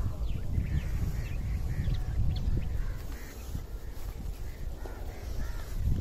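Birds near banana trees and a maize field call repeatedly in a busy chorus of harsh, cawing chatter, moderately close, over steady outdoor wind and low rumble, with no talking.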